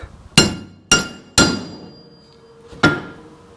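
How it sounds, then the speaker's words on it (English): A hammer strikes the flange near a retaining clip on a Sea-Doo watercraft engine, giving four sharp, close metallic blows at irregular intervals, each ringing briefly before fading, with no talking. "I'm going to have to hit the flange now because I'm going to hit the retaining clip."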